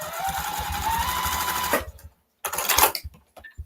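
Sewing machine stitching a quilt block seam, a fast close mechanical whir for nearly two seconds, then a pause and a shorter burst of stitching with a few clicks.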